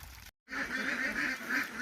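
A flock of ducks about 72 to 74 days old quacks continuously in a busy, overlapping chorus as they are let out of their pen, with a brief break in the sound near the start.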